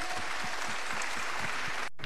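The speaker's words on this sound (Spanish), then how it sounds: "Un tonnerre d'applaudissements pour Achille" Audience applause for a performer at a Europe Together event in a circus venue, a steady dense wash of clapping that holds loudly throughout, then briefly cuts out near the end.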